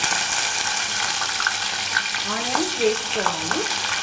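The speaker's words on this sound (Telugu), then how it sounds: "నెక్స్ట్ వచ్చేసి కొన్ని వెల్లిపాయలు అండ్ ఆనియన్స్ వేసుకోవాలి" Garlic and onions frying in a pan for a chicken curry: a continuous close sizzle with scraping stirring strokes and a few brief clinks in the second half, no talk over it.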